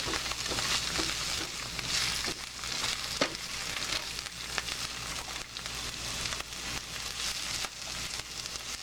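Food caramelizes in a pan with a continuous soft sizzle and faint crackle, fairly quiet and steady throughout, with no talking.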